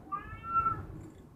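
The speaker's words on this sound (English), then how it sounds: "sorry, my cat's in the background." A pet cat meows insistently indoors, wanting to go outside, with one drawn-out, rising and falling cry close to the microphone over a low background hum.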